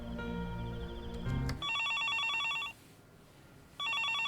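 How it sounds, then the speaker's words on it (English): A telephone rings in the Higurashi video game, a loud electronic trilling ring in two bursts separated by a short pause, following a sudden shift from lower tones. "The sound of the phone made me jump."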